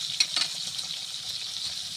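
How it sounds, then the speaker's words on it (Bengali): Chital fish pieces sizzle steadily in a kadai of hot oil, a close, continuous bright crackle with a couple of small louder pops early on. "এক এক করে মাছগুলা কড়াই দিয়ে দিলাম।"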